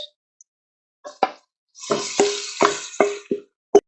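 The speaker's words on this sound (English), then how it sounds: "now that onion is nice and soft, I'm actually going to put in my grated beetroot" Grated beetroot tipped into a pan of softened onion, making a run of soft, wet plops and scrapes with a light sizzle between them, close and fairly quiet.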